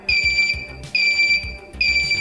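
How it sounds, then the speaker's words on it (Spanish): A race car engine monitor sounds its warning alarm, three loud repeated electronic beeps in a steady rhythm, alerting to low oil pressure, high temperature or low battery charge. "Este instrumento lo que hace es alertarnos mediante una alarma sonora y una luz"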